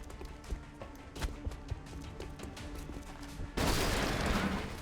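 Gunfire in the video game XCOM Enemy Within, a soldier's missed reaction shot: a string of sharp, close shots with a steady background bed, ending in a louder, sustained burst.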